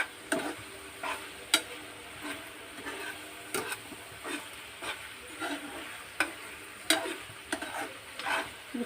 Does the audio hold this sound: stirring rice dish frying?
yes